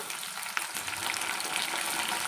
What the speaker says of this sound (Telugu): ఇప్పుడు పచ్చిమిర్చి టమోటాలు వేసేద్దాం